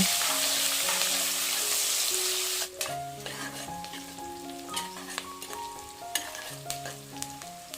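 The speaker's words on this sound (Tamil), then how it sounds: "வெங்காயம் பார்த்திங்கன்னா நல்லா பொன்னிறமாக வர அளவுக்கு நல்லா வதக்கிக்கலாங்க" Onions sizzle loudly in a hot pan, then the frying quiets and is joined by clinking stirring sounds against the pan.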